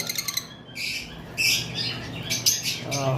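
Pet lovebirds, violet and green varieties kept in pairs, give sharp repeated chirps and squawks close by, in quick bursts with short pauses.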